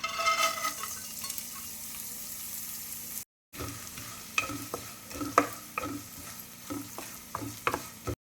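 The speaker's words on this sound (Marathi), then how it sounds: "आता आपलं तेल गरम झालं आणि आता आपण यात मटकी टाकू" Moth beans dropped into hot oil for tempering crackle and sizzle up close, followed by a brief gap and then repeated stirring clinks and scrapes over the ongoing fry.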